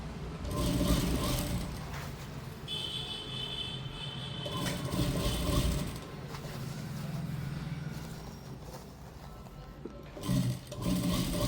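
A sewing machine stitches a readymade sleeve in a quiet tailoring room, its soft, rapid mechanical whirr running in uneven stretches at low volume.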